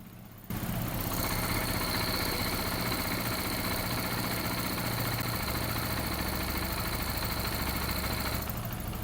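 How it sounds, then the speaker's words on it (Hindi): A TVS Apache RTR 160 2V BS6 motorcycle engine with a newly replaced timing chain starts and settles into a steady idle, a close, even mechanical rumble with a thin high whine running throughout. "देखिए बाइक को स्टार्ट किए, अब नया वाला फील आ रहा है, मस्त मोला मक्खन वाला साउंड आ रहा है।"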